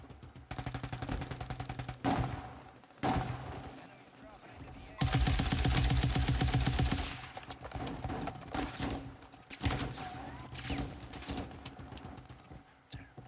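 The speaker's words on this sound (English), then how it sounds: "We got somebody single firing some kind of weapon over here." Single weapon firing in a battle royale video game, solo match on a large map: sharp shots ring out among other game sounds, with a dense burst of loud rapid reports in the middle stretch.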